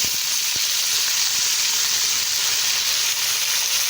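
Vegetables sizzle and fry golden brown in a pan for mixed vegetable khari as green onion is added, making a loud, steady hiss that carries on without a break.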